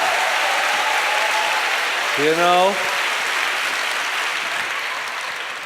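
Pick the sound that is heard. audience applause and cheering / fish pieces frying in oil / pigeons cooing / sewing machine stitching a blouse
audience applause and cheering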